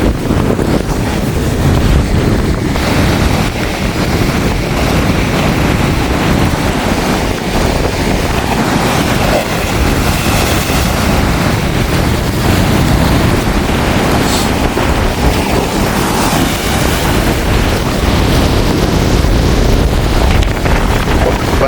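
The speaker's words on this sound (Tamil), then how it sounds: "அவ்வளோ பெரிய அலைகள் இருக்குது பெரிய பெரிய அலைகள் பாருங்க" Large sea waves crash and churn along the shore at Jaffna in a continuous loud roar, heavily buffeted by wind rushing across the microphone, with no voices.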